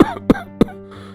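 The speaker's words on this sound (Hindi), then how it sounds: "घर के अंदर से खांसने की आवाज आती है" An older man coughs inside a house, three harsh, close coughs spaced evenly, followed by a faint trailing rasp, with no talk over them.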